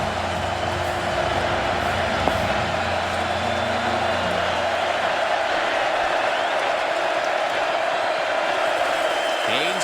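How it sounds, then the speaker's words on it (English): A Texas football stadium crowd roars steadily at a college game against Iowa State, a dense, sustained wash of cheering throughout with a voice talking over it. "Texas crowd getting into it."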